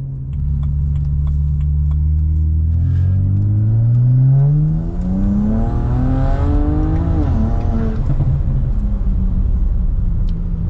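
A car refitted with 17T China turbos and port injection accelerates hard towards redline, its engine note climbing steadily in pitch through a loud, close, sustained run with a short shift-like dip, no talking.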